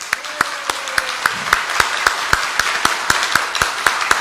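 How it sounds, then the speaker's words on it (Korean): Audience applause at a South Korean People Power Party event and documentary premiere: a steady crowd clapping with sharp individual claps standing out over the wash, sustained for several seconds. "우리 뜨거운 응원의 박수를 보냅시다"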